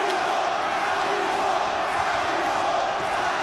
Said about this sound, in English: The crowd chanting Animo